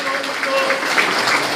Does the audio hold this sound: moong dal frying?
no